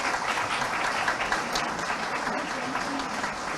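Loud, dense applause fills an education excellence award ceremony, a steady wash of clapping from a large audience holding without a break to the end.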